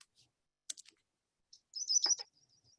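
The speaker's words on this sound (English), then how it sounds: "This particular one is called the yellow rump warbler" A yellow-rumped warbler's thin, high chirps and a quick trilling phrase, heard alone against silence, with short gaps between notes.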